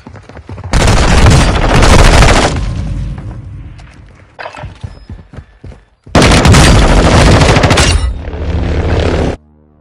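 Heavy video game gunfire and explosive booms pound in two long, loud, dense stretches, separated by a quieter gap of scattered shots and thuds.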